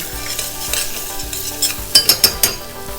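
Mandolin-shaved garlic in a hot pan as the base for clam chowder, a soft sizzle under a series of light metallic clinks and stirring taps toward the end, close and fairly loud.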